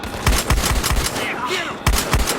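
Rapid automatic gunfire from the video game Battlefield Hardline on PS4, loud bursts of shots with brief gaps and a whooshing effect between them, no speech over it.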